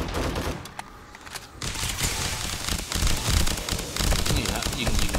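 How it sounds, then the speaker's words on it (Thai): Rapid gunfire in the survival video game 7 Days To Die comes as dense bursts of shots with a short lull, fairly loud, while someone talks over it. "ยิงเข้าไปนะพอรีโหลดก็ถอยพอรีโหลดเสร็จก็ยิงต่อ"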